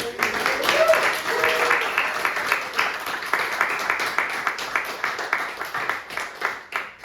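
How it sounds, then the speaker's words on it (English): Audience applause at a literary reading event, a steady wash of clapping from a room of listeners lasting several seconds, with some voices mixed in beneath it. "Can we have another round of applause for"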